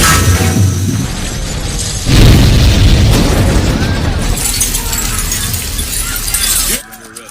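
A film explosion: a loud burst erupts partway through, followed by a long crackling, debris-filled roar that slowly fades before cutting off near the end.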